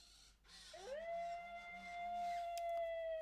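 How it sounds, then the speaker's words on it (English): A synthetic, electronic howl from an Elephant Robotics MetaDog robot pet dog rises and holds a long steady tone, with a few soft yips underneath, close and fairly clear. "it's a touch and hold to make him howl."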